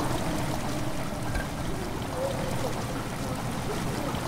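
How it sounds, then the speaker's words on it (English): Steady flowing water trickles through the dark underground setting of the horror game Amnesia: The Dark Descent, a continuous broadband wash holding even level throughout with no voices. "I hear water."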